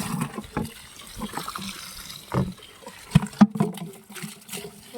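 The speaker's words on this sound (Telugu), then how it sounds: "నీళ్ళు పారవేసేస్తాను." Water poured out from a bucket on a farm, used for rinsing away cow dung, comes as uneven splashes and trickles with a few sharper bursts, fairly close and moderately loud.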